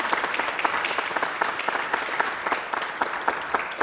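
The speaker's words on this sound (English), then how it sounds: "Big round of applause for what Krisztina accomplished." Audience at a school arts performance claps warmly, a brisk sustained patter of many hands, fairly close and even throughout with no talking over it.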